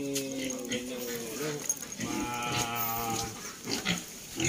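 Two-month-old wild pigs (baboy damo) squeal and grunt up close in a pen while being weighed, in loud repeated bursts with people talking nearby.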